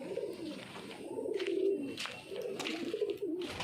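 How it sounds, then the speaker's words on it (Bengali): Pigeons in a loft coo in low, rolling phrases, two long coos separated by a short pause, with a faint high chirp and soft rustling behind them. "তাই পায়রা সব ছাড়াই রয়েছে"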